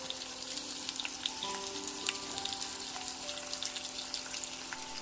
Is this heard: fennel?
yes